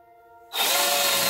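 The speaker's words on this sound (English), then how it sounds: "you drill through" A power drill starts abruptly and bores steadily through a wall while a TV mount is being installed without studs, loud and close, following a moment of quiet hum.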